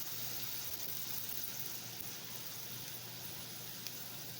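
Bacon sizzles in a side pan while cooking for discada, a steady close hiss of frying fat running evenly throughout without breaks or voices.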